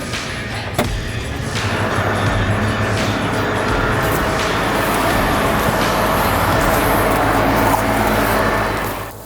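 A Fendt Ideal combine harvester pulled up in a wheat field, a loud continuous engine and machinery roar that builds after a sharp clank near the start and holds steady, then eases slightly at the end.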